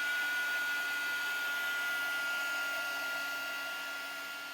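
A hair dryer blowing steadily to dry gouache paint on an illustration, a loud continuous whooshing hum that fades slightly toward the end, with no talking.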